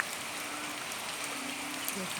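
Morning rain falling steadily behind a house by the Pattani River in Thailand, a dense, even hiss of drops, with a voice faintly present under it.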